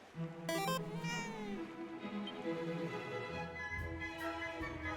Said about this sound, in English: as you can hear, the cats meow themselves now